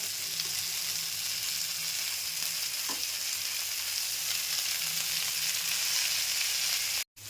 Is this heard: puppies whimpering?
no